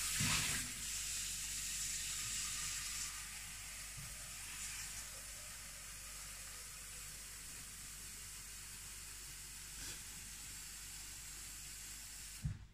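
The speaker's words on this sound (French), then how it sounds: "On va commencer à mettre de l'eau encore dans la casserole pour cuire les pâtes." Tap water runs steadily into a saucepan, a soft continuous hiss that carries on for several seconds.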